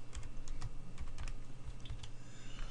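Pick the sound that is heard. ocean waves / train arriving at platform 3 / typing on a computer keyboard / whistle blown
typing on a computer keyboard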